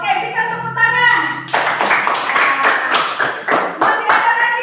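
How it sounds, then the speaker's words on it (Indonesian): An audience in a classroom coaching session breaks into a burst of hand clapping that starts after a brief voiced sound and continues for several seconds, loud and close, with individual claps standing out. "Oke, kita tepuk tangan."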